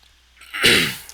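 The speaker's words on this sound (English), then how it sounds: "I have to desperately try to clear my throat" One sharp, close throat-clearing burst from a commentator during an esports match rises quickly out of near silence, then fades away.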